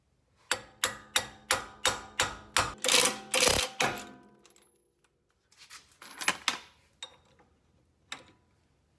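Rapid series of loud metallic strikes, about a dozen evenly spaced close blows, then a pause and a few scattered knocks as a ball joint is separated on a 1992 Honda Civic during axle work.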